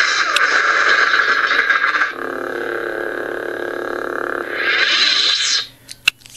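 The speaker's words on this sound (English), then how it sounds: "That sound was the sound of lightsabers clashing together." Ultrasabers Dark Initiate lightsabers give buzzy, humming electronic swooshes that rise and fall, with a sustained crackling clash in the middle, then a few sharp clicks as it fades out.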